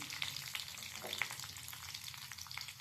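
Garlic and curry leaves fry over low heat in a pan, giving a close, continuous sizzle with small crackling pops and faint stirring.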